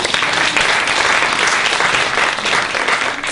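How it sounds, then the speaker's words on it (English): Audience applause at a magic show, dense and steady throughout, a crowd clapping close and loud with no talk over it. "Round of applause for Rachel, please."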